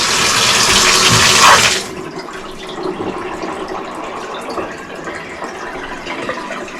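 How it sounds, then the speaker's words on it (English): Water gushes loudly into a blocked bathtub drain from a half-inch pipe at full pressure, a dense rushing fill that cuts off abruptly after two seconds and leaves softer gurgling flow and trickling. "Now it's flowing, now it's good, but I want to fill up more and push again."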